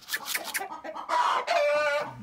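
A rooster crows close by in a backyard hen run, a long drawn-out call following some clucking and short fowl calls from the flock.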